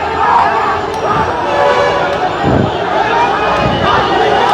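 A marching crowd of Dhaka University students at a protest makes a dense, loud, continuous roar of shouting and chanting, with a voice talking over it.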